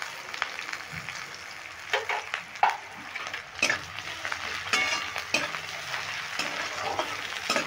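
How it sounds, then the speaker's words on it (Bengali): Onions fry in a pan with green chillies and sugar while being stirred, a soft steady sizzle broken by frequent scraping and clacking of the spatula against the pan. "আমি পেঁয়াজটা একটু লালচে করে ভেজে নেব, হালকা লালচে করে ভাজবো।"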